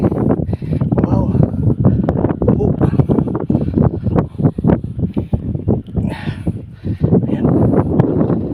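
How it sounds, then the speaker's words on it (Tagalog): Strong wind buffets the microphone in continuous loud gusts and rumbles, with a voice speaking over it. "Ang lakas ng hangin."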